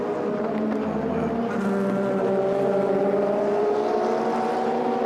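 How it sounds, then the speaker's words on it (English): An Aston Martin race car in the Asian Le Mans Series 4 Hours of Abu Dhabi rolls along the pit lane, a steady, sustained engine drone holding level throughout with no talk over it. "the Aston Martin is on pit lane."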